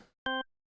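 A Hammond-style organ patch built in Phase Plant, percussion switched on, plays one short chord of about a sixth of a second, with a bright attack and a rich stack of harmonics, cut off cleanly and heard alone.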